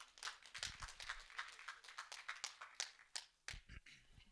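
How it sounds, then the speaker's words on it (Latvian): Conference audience applauding a speaker's introduction at a street football event, a steady wash of many hands clapping at moderate distance for several seconds, with a few louder sharp claps standing out near the end. "Jūsu aplausī!"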